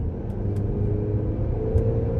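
A 2024 GMC Acadia (Denali or AT4) under hard acceleration: a steady, loud low engine rumble and drone held for about two seconds with no talk over it.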